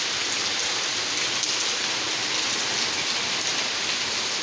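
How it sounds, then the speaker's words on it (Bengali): Steady rain pours down in a dense, even hiss that stays at one constant level throughout. "তারপরে বৃষ্টি শুরু হয়েছে আর শেষ নেই"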